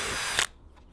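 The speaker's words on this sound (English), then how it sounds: "All we're doing now is making sure we're drilling holes big enough for top bolt to go through." A power drill whirs at high speed while boring holes for a Rocket Bunny duck tail spoiler on a Nissan 350Z, the motor cutting off abruptly after about half a second and leaving a faint mechanical rattle.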